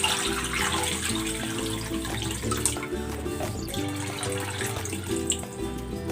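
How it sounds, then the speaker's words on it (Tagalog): Tap water running into a pot with chicken breast for chicken soup, a steady splashing, gurgling flow close by with no talk. "Lagyan natin ng tubig."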